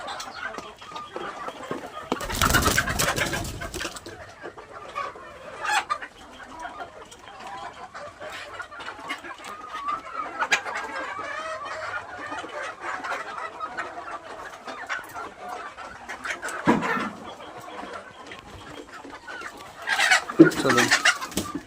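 Local free-range chickens cluck and coo softly and continuously while eating black soldier fly larvae, with a few louder rustling bursts nearby.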